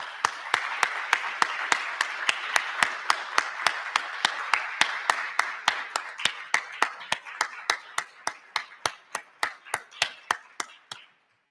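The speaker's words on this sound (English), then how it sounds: "So a special round of applause," Audience at a scholarship prize giving applauds with a steady run of sharp, evenly spaced claps, loud and close, tapering off and ending cleanly after about eleven seconds.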